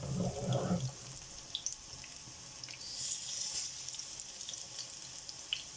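Potato patties (aloo tikki) fry in a pan with a steady, soft sizzle throughout. A brief clatter at the start comes as they are turned.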